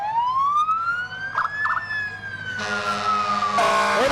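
Jefferson Township Fire Department fire truck rolling in a parade sounds its wailing siren, a rising and falling tone close by, joined near the end by blasts of a loud air horn.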